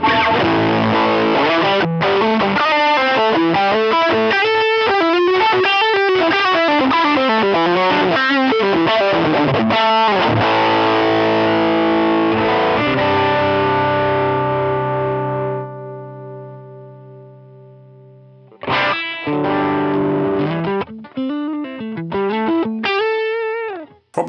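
An electric guitar played through a Boss Angry Driver overdrive pedal gives distorted chords and riffs with a gritty, saturated tone. It rings out, goes silent briefly, then resumes with more playing, and nobody talks.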